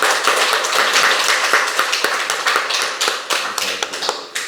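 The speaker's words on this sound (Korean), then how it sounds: "우리 하나님께 감사의 박수를 한번 같이 드리겠습니다" A church congregation claps together steadily for several seconds, a dense, loud, continuous patter of many hands filling the room, with no voices over it.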